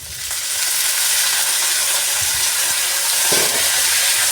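Curry leaves and spices sauté in a hot pan for an adamant creeper recipe, giving a loud, continuous close sizzle with faint stirring scrapes and no talking.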